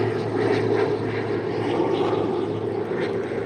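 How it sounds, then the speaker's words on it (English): A loud propeller airplane flying overhead, a steady droning roar with a low engine hum that fills the whole clip at close range. "forgive me for this damn loud ass plane"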